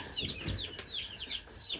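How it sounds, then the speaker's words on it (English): Hens cluck close by in a short burst of quick, chattering calls mixed with higher chirps, kept in a pen on a homestead. "We have our hens in here."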